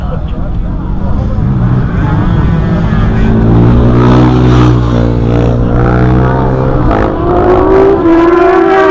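Cars and motorbikes at a large vehicle meet in Osimo, engines revving and rising in pitch, loud and close, with crowd chatter and voices mixed in throughout.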